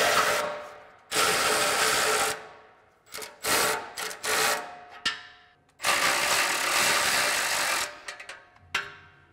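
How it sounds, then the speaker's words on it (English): Bursts of rapid ratcheting from a socket wrench loosening tailpipe exhaust clamps on a RAM 1500 pickup, close and loud, in several runs of varying length separated by brief pauses and clinks. "We're gonna loosen up these two clamps around the tailpipes."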